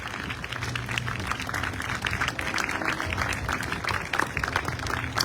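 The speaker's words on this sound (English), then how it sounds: "Can we give another round of applause for Portland Taiko?" Outdoor crowd applauding Portland Taiko at a Hiroshima and Nagasaki memorial gathering, steady dense clapping with scattered sharp claps throughout, moderately loud and continuous with no talk.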